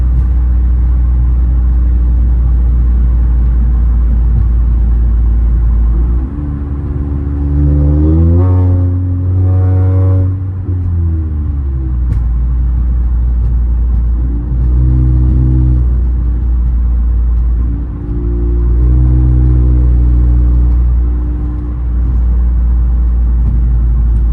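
A catless Toyota Camry drives through New York City traffic with a loud, deep engine drone and exhaust rumble, rising in pitch through revs and shifts before settling back, heard close from inside the car.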